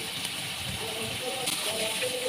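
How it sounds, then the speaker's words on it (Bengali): Pieces of hilsa fish fry in hot oil in a wok with a steady, even hiss and sizzle, and a voice is faintly present in places. "কড়াইতে তেল গরম করে ইলিশ মাছগুলো দিয়ে দিচ্ছি।"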